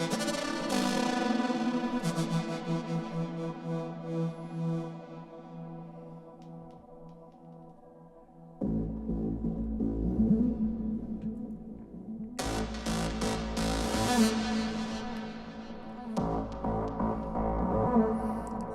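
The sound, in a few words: melodic techno synth with LFO, delay and Valhalla VintageVerb reverb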